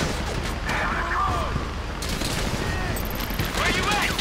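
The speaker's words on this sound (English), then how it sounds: "You hear that gunfire?" Gunfire in the GTA 5 video game during a heist mission, scattered bursts of shots and booms crackling beneath ongoing game sounds, moderately distant rather than close.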